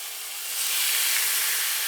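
Thin marinated flank steak hitting a hot dry skillet with no added oil, a broad steady hiss that swells partway through and holds.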